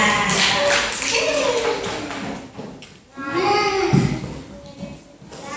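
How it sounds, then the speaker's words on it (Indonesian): A class of third-grade pupils claps hands together in a school classroom, a close, busy patter of many hands rising and dipping, with children's voices chattering over it. "Tepuk tangan dong buat kelas 3A"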